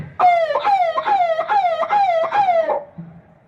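A voice imitates an ambulance siren, repeating about six falling wail-like cries in a steady rhythm, loud and close, then stops.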